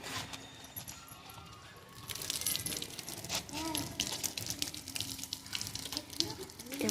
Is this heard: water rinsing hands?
yes